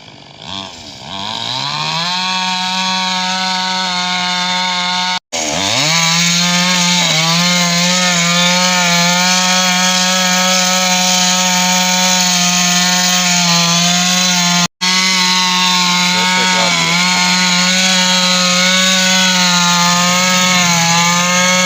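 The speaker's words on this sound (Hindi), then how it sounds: "वो देखें लकड़ी काट रहे हैं मशीन से, और उसकी आवाज़ भी बहुत ज़्यादा होती है।" A loud, steady motorized saw cuts through wood in a village setting, its engine note droning continuously with harmonic whine, dipping briefly twice as the blade pauses or shifts between cuts.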